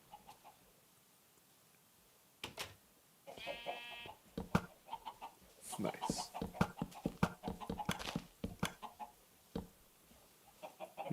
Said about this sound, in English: No wonder there's so many chickens around here.